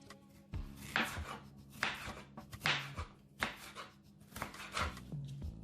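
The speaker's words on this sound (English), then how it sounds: "So I'll go ahead and slice it." A knife slices through cooked chicken breast on a cutting board, about six firm, evenly spaced cuts, each ending in a soft knock of the blade against the board.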